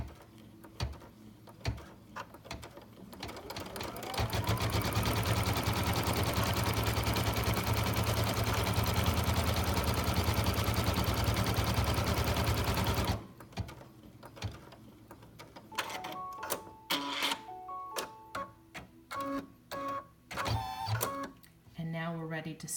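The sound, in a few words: Brother Dream Machine embroidery machine stitching a letter emblem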